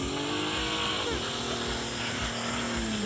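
Porsche Cayenne accelerating hard on snow, a loud, steady engine roar with rising and falling pitch held close throughout, with no talk over it.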